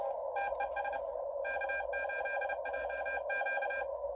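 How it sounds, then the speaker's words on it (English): Morse code from a ham radio sounds as bursts of clipped, rapid beeping tones in short groups over a constant radio hiss, faint and steady throughout. "This has some really good Morse code."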